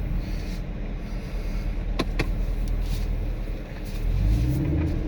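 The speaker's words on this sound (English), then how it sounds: "But that's how you use launch control in a 2019 Camaro SS." A 2019 Chevrolet Camaro SS automatic makes a launch-control run with the launch RPM set at 2,000: a loud, continuous engine drone and rumble, heard from inside, with a few clicks, then rising revs near the end.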